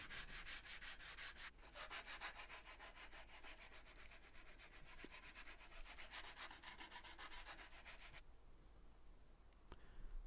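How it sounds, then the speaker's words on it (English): Sandpaper of 100 grit rubs around the sharp edges of a small scrap-wood Bethlehem star, a steady close scratchy rasp that pauses briefly near the start and stops just before the end. "I went over the star with 100 grit sandpaper and just went around all these sharp edges and smoothed them off"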